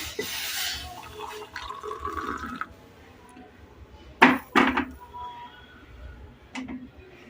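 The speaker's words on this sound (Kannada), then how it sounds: "ಇವಾಗ ಹಾಲು ಕಾಯ್ದು ರೆಡಿಯಾಗಿದೆ ಹಾಕೋಣ" Freshly boiled milk is poured for coffee in a home kitchen, giving a few short splashy liquid bursts amid quiet kitchen background noise.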